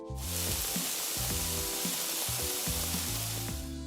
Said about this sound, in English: It's the recorded sound of frying bacon.